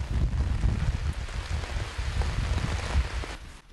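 Steady rainfall outdoors, a dense, even hiss of drops hitting surfaces that carries on unbroken, fairly loud, with no voices over it.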